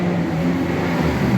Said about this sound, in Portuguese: nós vamos ouvir a timbadeira do motor agora